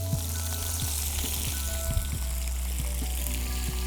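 Fish fries in a pan over high heat, a loud, steady sizzle with crackling pops close by and no voices.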